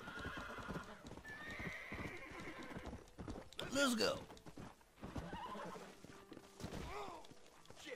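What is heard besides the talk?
horse hooves clip-clopping and neighing in video game Red Dead Redemption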